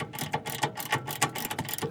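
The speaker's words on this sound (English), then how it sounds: "I used my 17mm socket to loosen this top bolt." A socket ratchet on a 17mm top bolt of a Nissan Frontier rear shock absorber, a close, rhythmic clicking of about seven quick strokes in steady succession, with no voices.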